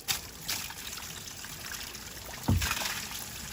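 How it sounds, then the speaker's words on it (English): Water drains from a garden rain barrel through an attached hose, a soft, steady trickle and gurgle with a few louder splashing surges, faint and close with no voices. "you're going to see the water start rushing out of this first barrel"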